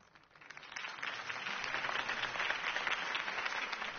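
Crowd applause in the video game Batman: The Telltale Series swells in from quiet and holds steady, a dense wash of clapping hands at moderate distance.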